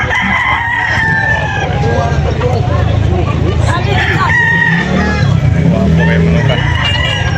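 Roosters crow at a chicken farm in Carbon, Cebu, several drawn-out calls overlapping amid clucking, a loud busy din with background voices and some traffic.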